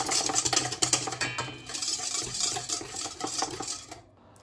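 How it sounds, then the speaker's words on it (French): A spoon scrapes and clinks against a bowl while cookie dough with salted butter is mixed, producing quick repeated rattling strokes close up before falling quiet at the end. "Et je mélange tout ça. Je le mélange bien."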